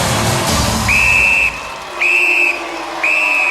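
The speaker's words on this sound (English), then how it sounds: "The whistle goes." A referee blows three sharp, loud whistle blasts at a UK Gladiators event, each about half a second, evenly spaced, with crowd noise fading beneath.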